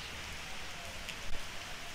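Steady rain hisses evenly throughout, with a dense patter of drops and one slightly louder splash near the end; no voices.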